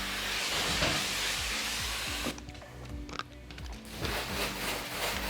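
Soapy water sprays onto a Tesla Model Y body panel in a series of close hissing bursts, with brief pauses between them.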